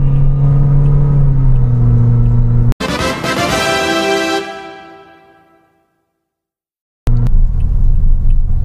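A car engine holds a loud, steady droning roar at full throttle, breaks off abruptly, then winds down to silence before the engine sound returns sharply.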